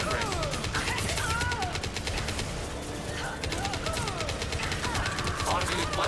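Rapid weapon fire in the Mass Effect 2 video game, a dense, loud, steady stream of shots layered with chirping synthetic tones and other game effects, with a voice speaking through it.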